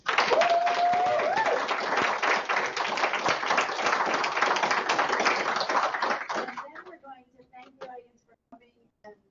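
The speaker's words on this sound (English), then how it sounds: "give first Shane a round of applause" A small audience claps for Shane after his dissertation defense, dense close applause for about six seconds that thins into a few scattered claps and then fades out, with a brief tone early on.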